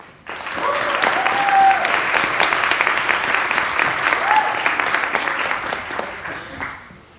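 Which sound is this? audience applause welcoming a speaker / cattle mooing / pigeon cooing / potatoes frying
audience applause welcoming a speaker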